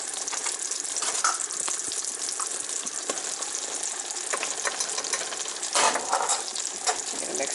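Garlic, thyme and flour fry in a pan with a constant dense sizzle, punctuated by scraping and clacking as the mixture is stirred, close and fairly loud.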